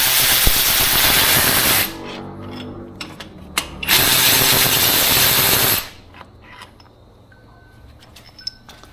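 Power tool loosening long Torx caliper bolts on a Porsche 718 rear brake, two loud sustained whirring bursts close up with brief ratchety clicks and clanks between them.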